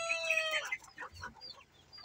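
Chickens, silky and native hens, give a few short clucks and bright squawks up close, the first loud and busy, then trailing into softer scattered calls with no talk.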